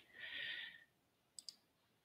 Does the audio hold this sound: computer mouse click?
yes